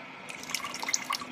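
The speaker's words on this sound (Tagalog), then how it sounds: "Patakan natin ng suka or vinegar." Vinegar, about two spoonfuls, is poured onto washed rice, giving a brief, faint trickle of soft liquid drips and splashes.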